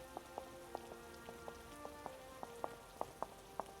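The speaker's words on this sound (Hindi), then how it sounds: "बारिश लगातार हो रही थी।" Steady rain falling, a faint patter of scattered drops striking a surface at irregular intervals, with several sharper, louder drips standing out near the end.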